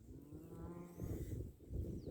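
A cow in a pasture herd of about thirty cattle lets out a long, drawn-out moo, followed by lower rumbling bellows, heard outdoors at moderate distance.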